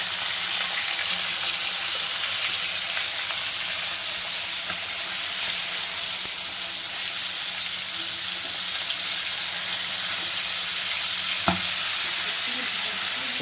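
Crab sizzles steadily in hot oil while being fried and stirred for a crab curry, a dense, continuous frying hiss with occasional faint scrapes and a single sharp clink near the end.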